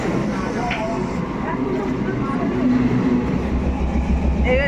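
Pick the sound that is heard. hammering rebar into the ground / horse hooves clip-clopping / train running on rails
train running on rails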